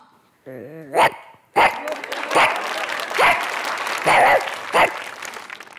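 On a comedy stage show, a man imitates a big dog with his voice in a series of deep, loud barks, with audience applause running underneath.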